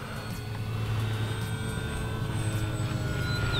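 Arrows Bigfoot 1300mm radio-controlled electric plane with lights and flaps passing overhead, a steady motor and propeller drone with a faint whine, even in level through a short stretch and heard alone.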